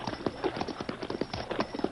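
A horse walks along a narrow canyon pass, its hooves clip-clopping in a steady, fairly close rhythm with no talk over it.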